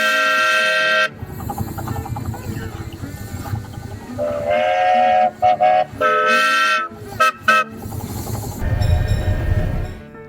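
Train horns toot back and forth on a passing loop at a railfest as trains pass. Several long, loud horn blasts overlap with steady rumbling rail noise underneath, interrupted by short choppy toots.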